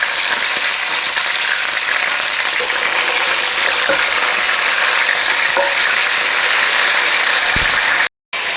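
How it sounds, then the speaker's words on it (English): Burgers sizzle loudly and steadily on a grill, a dense close hiss with a few faint scrapes as they are flipped, ending in a brief dropout. "right now we're gonna go ahead and give these burgers a flip"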